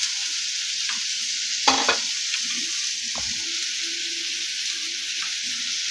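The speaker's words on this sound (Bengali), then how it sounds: "এরপর ওই তেলের মধ্যে আমি দুটো পেঁয়াজকে এর মধ্যে দিয়ে দেবো।" Onions fry in hot oil with a steady, moderate sizzle, broken by a few clinks and scraping stirs of a utensil against the pan.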